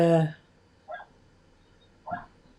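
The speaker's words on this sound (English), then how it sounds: "Oh, my dog's having a fit outside." A dog outside, recently unwell after a seizure, lets out a loud bark followed by two short, softer whimpering yelps spaced about a second apart, with no talk over it.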